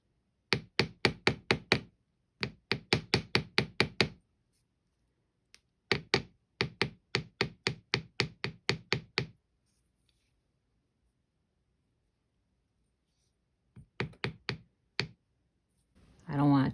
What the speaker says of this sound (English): I like to give them a little hammer just to make sure they're sturdy